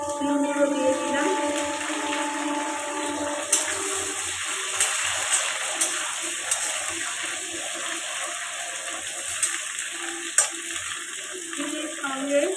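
Sliced beans dropped into a pan of vegetables already frying for a lunch dish, giving a steady watery sizzle with faint clinks throughout, near and continuous, while a voice speaks over it.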